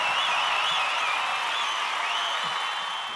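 Cast and crew cheer and applaud from the audience at the IIFA awards ceremony, a loud, dense wash of clapping and shouts that holds steady throughout and fades slightly at the end.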